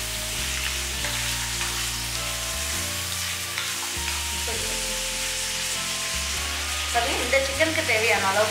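Chicken pieces with salt sautéing in a pan with onions, a steady close sizzle with stirring scrapes, some louder spatula clatter near the end; there is music behind the cooking.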